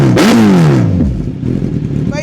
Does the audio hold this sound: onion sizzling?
no